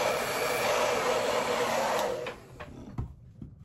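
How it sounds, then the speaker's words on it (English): A hair dryer blows with a steady, loud whoosh, then switches off abruptly, leaving a few faint clicks and handling noises. "I'm gonna go over with my blow dryer."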